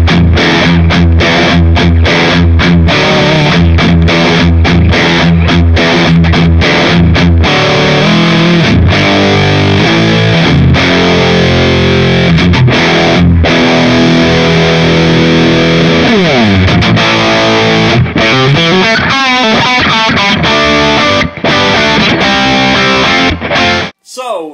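Distorted electric guitar through a Tone City DP Durple distortion pedal, a heavy tone playing loud, continuous chugging riffs and sustained chords that run for the whole passage, with rhythmic palm-muted bursts and a closing flourish.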